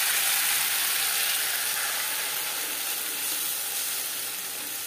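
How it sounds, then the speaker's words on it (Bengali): Ginger and green chili paste sizzling in hot mustard oil, a dense steady hiss and crackle that stays loud and close throughout with no voices. "পরিমাণ মতো সরষের তেল গরম করে নিয়েছি। দিয়ে দেবো 1 চামচ আদা ও কাঁচা লঙ্কার পেস্ট।"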